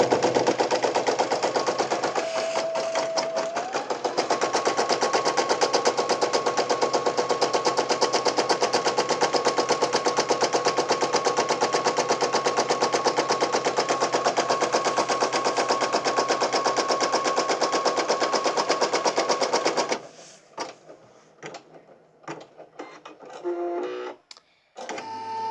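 Brother PE800 embroidery machine stitching a name onto tearaway stabilizer: a loud, continuous, fast mechanical rattle and hum with a steady tone, running for about twenty seconds before stopping, followed by scattered clicks and handling noises.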